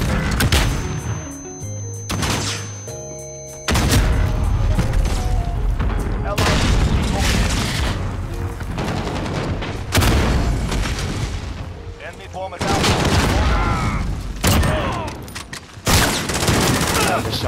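Shooter video game combat with shotgun fire: repeated loud, sharp blasts and bursts of gunfire with brief lulls in between, set against busy in-game noise and occasional voices.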